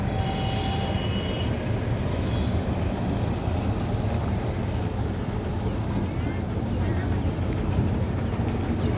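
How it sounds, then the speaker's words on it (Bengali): A boat's motor drones steadily as the boat sets off. The constant close rumble carries a wind-like hiss and stays even throughout. "আমাদের নৌকা কেবল ছাড়লো।"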